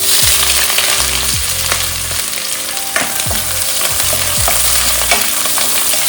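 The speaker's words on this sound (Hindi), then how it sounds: "कुछ देर फ्राई करने के बाद अब मैं इसमें प्याज डालूंगी।" Onions frying with dried red chilli and bay leaf in a pan for a yam (suran) curry: a steady, close sizzle broken by repeated scraping stirs of a spoon against the pan.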